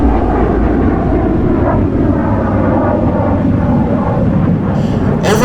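F-86 Sabre jets in a DCS World flight simulator game rolling through off-axis aileron rolls at a virtual airshow, a loud continuous roaring engine rush up close with no voices.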